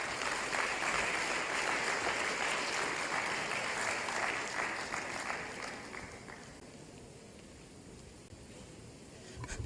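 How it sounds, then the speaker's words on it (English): Audience applause at a democracy dialogue event, a dense, sustained roar of clapping that gradually thins and fades over several seconds. "Another round of applause, ladies and gentlemen"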